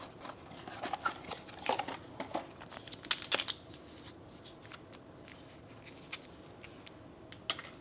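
Crinkly tearing and rustling as a flavored oatmeal packet is ripped open, a run of sharp papery rips and crackles near the start easing into softer handling noises, close and fairly quiet with no talking.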